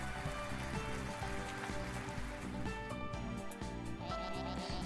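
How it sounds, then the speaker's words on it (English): Rain falling in the Cursed to Golf video game, a steady dense patter mixed with a continuous low rhythmic game backdrop, loud and unbroken throughout. "Oh dear, we see some rain, folks."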